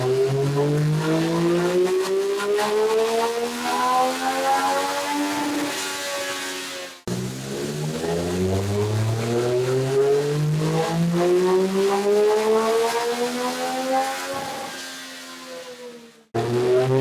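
A tuned 2026 Triumph Speed Triple 1200 engine on a dyno revs up through rising pitch, cuts off abruptly, then winds up again in a second long sweep before stopping.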